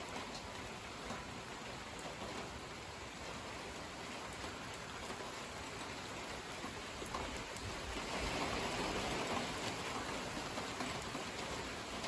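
Steady light rain shower with a little wind, a dense even hiss of drops on surfaces that holds at a constant level and swells slightly toward the end, with no voices.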